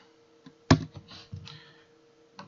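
Keys on a computer keyboard tap out a short, sparse run of soft clicks while an email recipient is entered in Outlook 2013, heard close and quiet with no talking.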